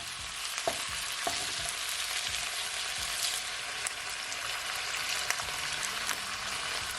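Pepper steak sizzling in a hot pan after liquid is poured in, a steady close frying hiss with scattered pops and a few scrapes of stirring, no talk.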